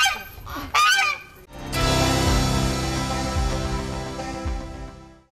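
A domestic goose honks loudly and close by, two short sharp calls followed by a long sustained honking cry that runs several seconds with faint lower calls behind it.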